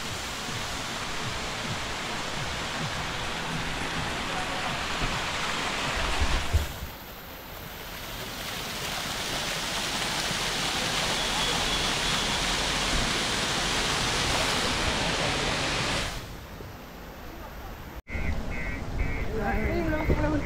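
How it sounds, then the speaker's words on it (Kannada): Heavy rain and waterfalls pouring over rocks at Charmudi Ghat on the Kudremukh road, a loud continuous roaring wash of water that drops briefly twice and then resumes. "ಬಂಡೆಗಳ ಮೇಲೆಲ್ಲ ಫುಲ್ ಮಳೆ ಬರ್ತಿರೋದ್ರಿಂದ ಫಾಲ್ಸೇ ಕ್ರಿಯೇಟ್ ಆಗಿಬಿಟ್ಟಿದೆ ಅಲ್ಲೆಲ್ಲ"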